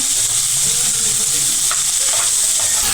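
Liver pieces dropped into a hot pan with onions sizzle and fry steadily throughout, a dense constant hiss close by with light stirring scrapes, no voices.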